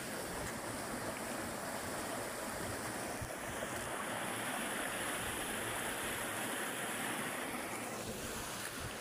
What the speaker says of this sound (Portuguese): Hoje esse pequeno rio até que está com um pouco mais de água,